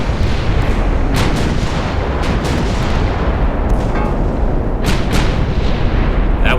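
Naval guns firing in the warship game Ultimate Admiral Dreadnoughts, a dense, continuous roar of booming artillery with sharper individual blasts punching through at irregular intervals.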